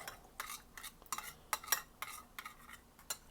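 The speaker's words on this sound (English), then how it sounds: "Stir it up." Lemon juice is stirred into a chicken marinade in a bowl, giving a series of close, irregular scraping clinks and sloshes, roughly a dozen quick strokes with short pauses between them.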